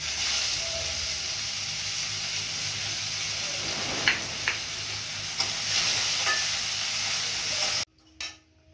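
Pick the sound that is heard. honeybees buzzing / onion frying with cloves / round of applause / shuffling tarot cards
onion frying with cloves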